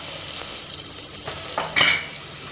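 Onions sauté in a pan for a festive lunch, a soft continuous sizzle with a few stirring scrapes, growing louder toward the end.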